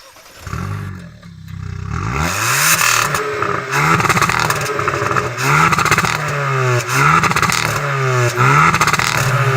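Hyundai i20 N with its 1.6-litre four-cylinder turbo petrol engine, 204 horsepower: after a quiet start the engine fires and revs repeatedly, sharp climbing blips rising and falling in a steady rhythm, loud and close.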